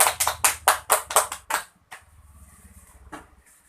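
A primary school class claps hands together in a quick unison rhythm, about eight loud, crisp claps, then falls into quiet room noise with a single faint tap near the end.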